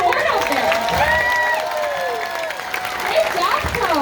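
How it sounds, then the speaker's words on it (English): Audience applause at a seal show at an aqua park in Hershey: a steady crowd clapping that fills the whole stretch, with tonal whistles or calls layered over it. "the sound of your applause"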